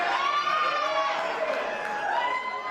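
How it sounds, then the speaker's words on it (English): A wrestling crowd cheering and calling back to Filthy Tom during a match, a dense roar of many voices with rising shouts, sustained and loud throughout. "the crowd responding as they always do to the Filthy One"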